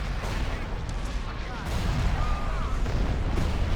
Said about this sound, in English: Corvette guns have the precision needed to take care of a ship like that